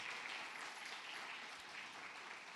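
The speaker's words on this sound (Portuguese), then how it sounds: "Pode aplaudir Jesus." Church congregation applauding during a worship service, a faint, distant wash of clapping holding steady throughout.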